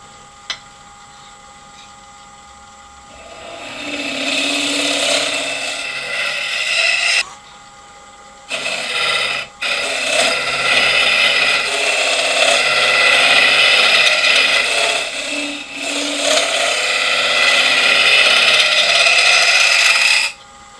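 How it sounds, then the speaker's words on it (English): A round nose scraper cuts inside an elm lidded box on a wood lathe, a loud steady whirring scrape with a rising start, a brief break near the middle, then continued cutting to the end. "I'm going to use a round nose scraper just to get into the bottom and clean the bottom edge up."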